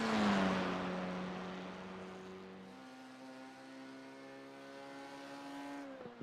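A race car engine on track in an SRC F4 Cup race at night in the rain gives a strong, steady tone with a falling pitch, loud at first and then easing as the car passes and fades.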